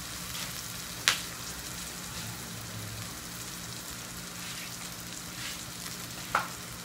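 Talong (eggplant) sizzling in a pan as it is stirred, a steady soft frying hiss with two brief utensil clinks, quiet and close, no talk.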